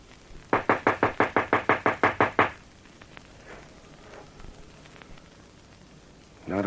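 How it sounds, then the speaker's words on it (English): Knocking on a back door in a classic detective radio drama: a quick run of about a dozen sharp, evenly spaced raps, close and loud, followed by quiet rustling. "Knock on the back door."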